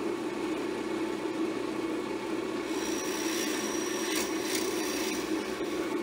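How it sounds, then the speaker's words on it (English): Hole saw drilling through scrap wood, a steady, loud, continuous grinding whir of the bit chewing into the board, unbroken for the whole stretch with a slight rise in pitch partway through. "That one goes a whole lot easier than that big hole saw."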